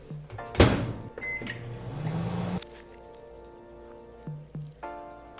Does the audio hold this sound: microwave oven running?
yes